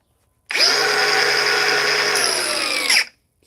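A DeWalt grinder runs at speed setting 3 in one steady, loud, high whine that lasts a few seconds, then cuts off abruptly, with no other sound around it.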